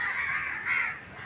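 Two harsh crow caws ring out close by in Mumbai, back to back, with faint background noise.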